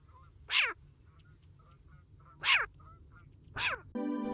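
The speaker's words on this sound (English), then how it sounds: "Let us hear the call of short-eared owl to conclude this part of the story." A short-eared owl gives three short, harsh downward-sweeping calls at spaced intervals over a low steady hum, followed by a brief buzzy tone.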